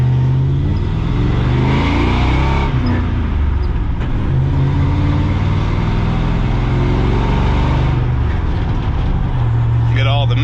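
The deep V8 engine of a Chevrolet square-body K30 truck with a swapped 6.0 LQ4 rumbles and revs, rising and falling in pitch while driving, loud and close, with bursts of road noise.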